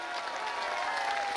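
Audience applause at a Hindi comic poetry gathering (hasya kavi sammelan), a steady, dense wash of many hands clapping at moderate distance, sustained evenly throughout without a break.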